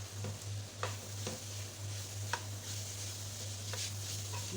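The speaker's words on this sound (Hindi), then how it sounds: "कीमे की मैंने अच्छी तरीके से बुनाई कर ली है।" Minced meat fries in a pan with a steady, quiet sizzle, while a spoon scrapes and stirs in soft, irregular strokes. No voices.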